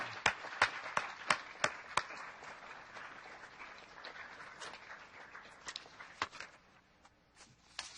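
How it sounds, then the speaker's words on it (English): Applause at a city council meeting: a handful of sharp, distinct claps ring out near the start, then thinner scattered clapping trails off with a few late claps, fairly quiet in a large room. "Let's give them a great round of applause and acknowledgement."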